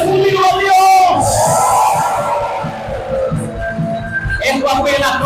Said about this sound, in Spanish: Dale ese grito de júbilo a Dios.